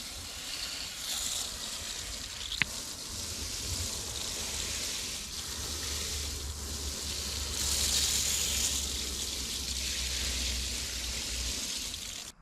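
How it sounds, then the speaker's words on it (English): A steady hiss of water spraying onto tomato plants in a garden bed, continuous and moderately soft, with a brief click partway through and a slight swell in the spray later on. "Now I'm gonna water the last tomatoes."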